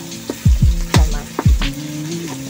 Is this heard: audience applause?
no